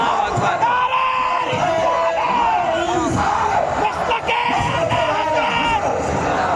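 Large gathered crowd at an Urs religious gathering roaring a loud collective chant in answer to a takbir call, sustained dense voices shouting together for several seconds.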